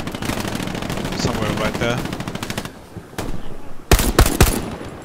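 A machine gun fires in the World War II shooter Hell Let Loose on Utah Beach, loud rapid bursts of shots with brief gaps and a sharp final volley, while players talk over it.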